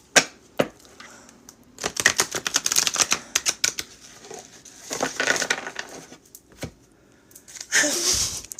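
Decks of tarot cards are shuffled close up in bursts of rapid papery riffling and clacking, separated by short quieter pauses, with no speech.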